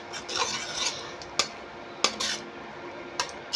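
Potato curry masala with curd is stirred in a pan for a vegetarian Kashmiri aloo dum, with light scraping and a few sharp clinks of a utensil against the pan over a soft background hiss.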